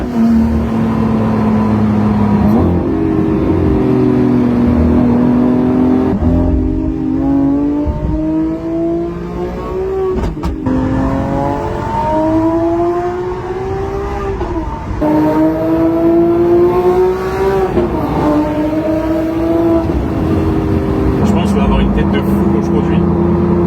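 Lamborghini SVJ engine revving and droning through repeated rising pulls, loud and close throughout, with a voice talking over it.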